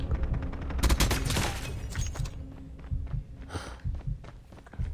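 SKS rifle fire in the mobile shooter game Call of Duty Mobile: sharp shots in quick bursts, dense at first, then scattered single cracks over footsteps and game noise.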